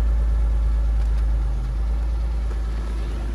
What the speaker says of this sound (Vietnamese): máy bên em lổ lên cho các bác nghe rồi đấy ạ